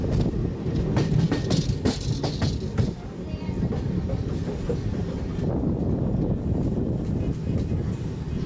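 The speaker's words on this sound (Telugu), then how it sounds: "అటుపక్క సికింద్రాబాద్ అనకాపల్లి స్పెషల్ ట్రైన్ వెళ్తుంది." Special train from Secunderabad to Anakapalli rolling past on an adjacent line near Rajahmundry, a steady close rumble with rhythmic clickety-clack beats and wind buffeting throughout.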